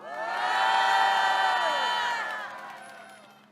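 A rally crowd erupts in loud cheering and shouting, a swelling mass of raised voices that peaks early and then slowly fades, with no clear separate clapping.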